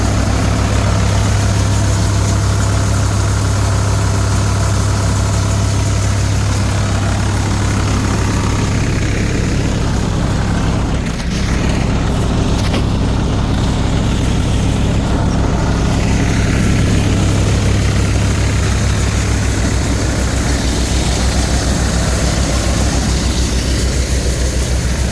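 A new 2025-model Shree Ganesh Harbam thresher working black gram runs on its engine with a loud, steady, close drone that barely changes throughout, apart from one brief dip partway through.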